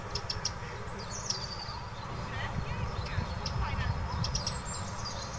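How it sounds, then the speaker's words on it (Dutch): A Eurasian wren sings from some distance in a nature setting, giving thin, high, rapid trills in brief bursts over steady low background noise. "Het winterkoninkje klinkt nog een beetje bedeesd."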